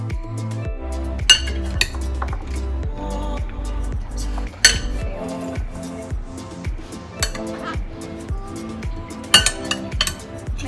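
Chopped salad with drained, rinsed chickpeas is tossed in a bowl, with steady clinking and knocking of utensils against the dish in a quick repeating rhythm, close and fairly loud, with no talking.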